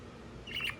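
A pet budgie in its cage near bedtime gives a short, faint burst of high chirps lasting about half a second, close by, after quiet room tone.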